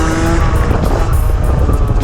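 A Derbi Senda moped rolls through a coaster wheelie with the clutch pulled, giving a loud, rough broadband rush of engine and road noise and a brief tonal whine at the start.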